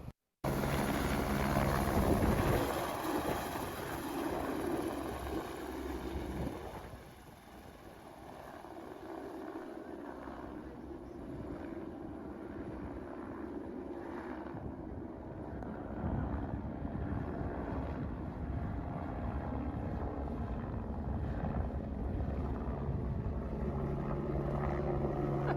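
Helicopter lifting off at a remote climate research field site, a loud steady rotor and engine roar with heavy low rumble and wind buffeting that dips briefly then builds again, close and continuous with no talk.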